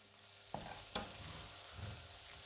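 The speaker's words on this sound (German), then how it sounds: "So, erstmal muss ich ein bisschen umrühren." A spoon scrapes through a lentil and bulgur mixture in a pan, two soft clacks against the pan followed by a faint scraping stir, quiet and close.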